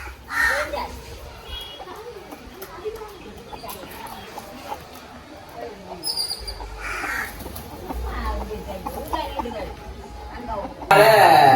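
Crows caw repeatedly in the background while a person talks and calls out, imitating the caw to call crows to offered food, with other outdoor voices around, in Jaffna, Sri Lanka.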